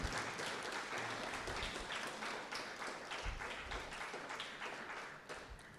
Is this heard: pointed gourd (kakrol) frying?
no